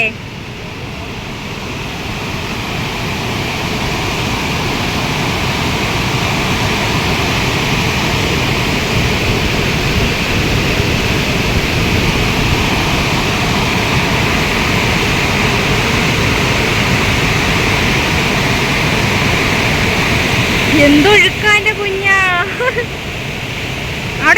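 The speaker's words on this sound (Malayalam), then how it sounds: "കണ്ടോ നമ്മുടെ പുഴയിലെ വെള്ളത്തിൻ്റെ ഒരു ഒഴുക്ക്" River water flowing strongly near a small bridge, a loud continuous broadband rush holding steady for the whole stretch, with brief voice-like sounds near the end.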